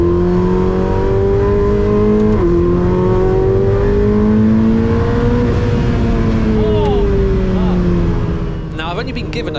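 A Ferrari 488 Challenge race car's engine, close to 700 horsepower, wails at full throttle on a damp circuit, its pitch climbing steadily through the gears with brief shift dips, loud and continuous throughout.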